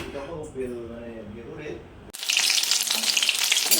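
Chicken cutlets frying in oil make a loud, dense, steady sizzle that bursts in halfway through and fills the rest of the clip, after an opening stretch of someone talking over faint kitchen noise.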